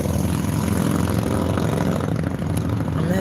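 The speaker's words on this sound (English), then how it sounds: "I'm going to say that again because that motorbike was loud." A loud passing motorbike drones steadily at close range, its engine filling the whole short stretch with no voices over it.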